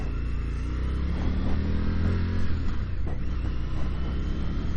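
An Indian FTR motorcycle in sport mode accelerates on a demo ride, its engine a loud, steady low rumble with wind noise, heard close from the rider's position.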